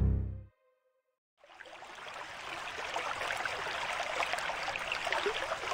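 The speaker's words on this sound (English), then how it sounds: "Rain brings back many dried streams back to life." After a brief near-silence, a stream revived by monsoon rain rushes and gurgles in a steady, broad wash of flowing water that fills the rest of the moment.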